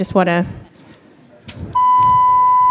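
A brief voice, a clunk, then a loud continuous electronic fire alarm tone begins and holds steady.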